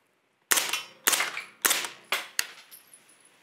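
Five sharp, loud pistol shots fired indoors without hearing protection, each a hard crack with a short ringing decay, spaced roughly half a second apart and heard alone.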